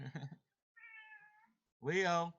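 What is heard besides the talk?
cat meowing for attention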